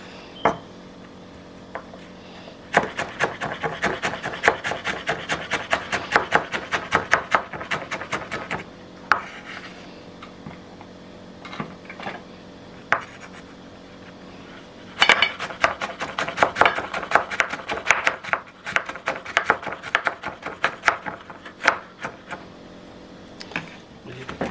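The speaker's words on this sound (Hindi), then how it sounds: "उतनी देर तक मैं अपनी वो कैरेट और जो बंद गोभी वो काट लें वो आपको दिखाते हैं साथ साथ" A knife chops carrots and cabbage on a board in quick bursts of dense, crisp strokes separated by short pauses, close and fairly loud.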